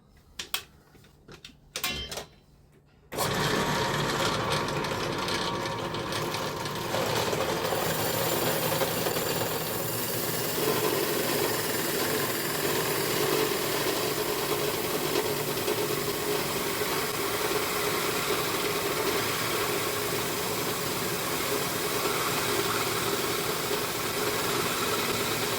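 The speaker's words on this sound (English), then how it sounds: "So let's get that drilled out." A few brief clicks and knocks, then a power drill starts and runs continuously at a steady whine, close and fairly loud, without stopping.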